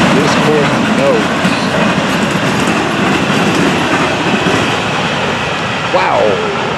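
FEC210, a freight train hauling auto racks, rolls loudly past a grade crossing with a steady roar and rhythmic wheel clatter, brief flange squeals rising near the end.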